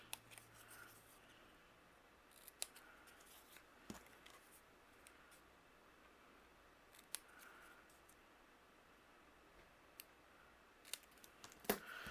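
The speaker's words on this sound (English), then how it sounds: "I'm going to use my scissors, and we're going to fishtail the end here." A few quiet, crisp snips of scissors cutting the end of a patterned paper strip, spaced irregularly against a near-silent background.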